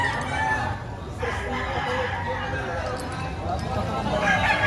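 San Pablo chickens at a market, with a rooster crowing amid clucking fowl, heard under steady nearby talk and background bustle.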